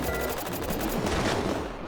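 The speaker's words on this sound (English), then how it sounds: "Airsoft SMG." An airsoft SMG fires in the video game Psycho Patrol R as a rapid, continuous burst of close, loud automatic shots that fill nearly two seconds without pause.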